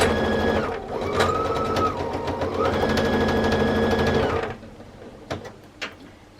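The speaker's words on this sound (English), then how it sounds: "I'm sewing and I'm saying to myself, this machine sounds like there's no thread in it" A sewing machine stitches quilt pieces in a steady fast whirring run of about four seconds, briefly slowing mid-run, then stopping, followed by a few soft clicks and handling sounds.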